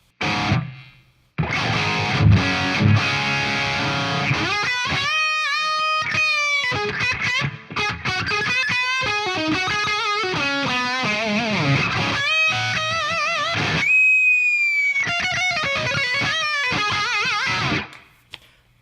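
Distorted electric guitar notes and chords played alone through a Two Notes Cab M with a mono reverb, ringing out with a roomy reverb tail over nearly twenty seconds, with short pauses between phrases.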